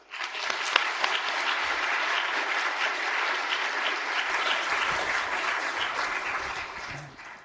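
Sustained audience applause welcoming Matthew Hornsey to a talk on the psychology of impostorism, a dense steady clatter of many hands that holds for several seconds and then fades out.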